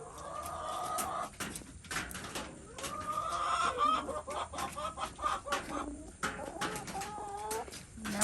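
Chickens on a homestead cluck and chatter around newly added birds and scattered feed, a busy, close flock with overlapping calls, squawks and soft murmurs throughout.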